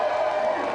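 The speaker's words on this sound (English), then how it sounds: "Round of applause for our special guest" Studio audience on a television games show applauds and cheers for a special guest, snooker player Stephen Hendry, in a short, dense burst of crowd noise that fills the room without a break.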